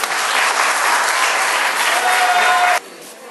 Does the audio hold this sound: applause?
yes